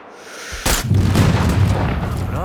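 A sudden heavy blast of an explosive sniper round in Sniper Ghost Warrior 3 hits hard and then rolls into a dense, rumbling aftermath that keeps sounding for a couple of seconds.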